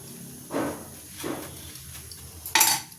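Scored tomatoes set one by one into a pan of spiced masala while making malai chicken, giving three soft, separate clattering thuds with a quiet hush of kitchen background between them.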